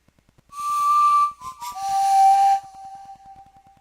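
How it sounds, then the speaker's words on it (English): A breathy synthesized pan flute preset called Windy Pseudo Pan Flute plays a short phrase of two sustained notes, airy and clear, over a soft ticking beat. "Now this is a flute that's called Windy Pseudo Pan Flute."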